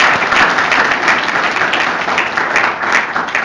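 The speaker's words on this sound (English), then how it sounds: "A round of applause for the paralegals." A room full of people gives a warm round of applause for paralegals, loud, dense clapping sustained evenly throughout, with no voices over it.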